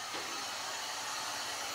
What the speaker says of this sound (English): one optional tool used in the installation of these graphics is a heat gun